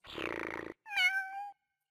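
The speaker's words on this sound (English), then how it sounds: "bats her paws up and down and makes playful kitty sounds" A FurReal Friends electronic toy cat gives two synthetic meows, the first buzzy and flat, the second a rising and falling tone, close and clear with silence between.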